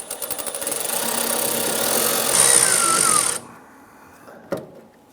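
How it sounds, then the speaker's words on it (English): A steady, close buzzing whir of a powered 1/4-inch socket driver loosening fuel line hose clamps at the tank of a 1995-2001 Ford Explorer, running about three seconds before cutting off, followed by a faint clunk. "Using our 1/4-inch socket, we want to go ahead and loosen these clamps holding our fuel lines to the"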